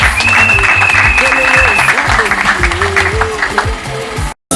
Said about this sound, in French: que je demande encore une fois de plus d'applaudir pour eux